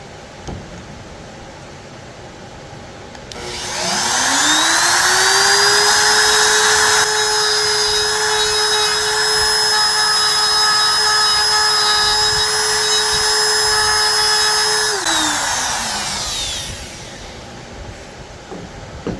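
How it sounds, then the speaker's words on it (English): A router cuts material out of an antique table, spinning up to a loud, steady whine that holds for about twelve seconds before winding down, with no talk. "I get most of the material out with a router"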